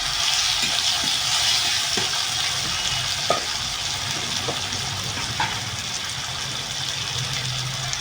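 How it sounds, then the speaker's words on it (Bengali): Chopped tomato frying in a pan with hot oil, giving a steady, fairly loud sizzle and hiss throughout, with a few faint clicks of a utensil and no voices. "টমেটোটা দিয়ে দেবো।"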